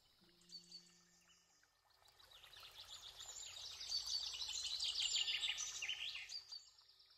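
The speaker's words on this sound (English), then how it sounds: "green finch," A European greenfinch sings a rapid twittering and trilling song that builds from soft to fairly loud and carries on steadily, over a faint flowing-water hiss.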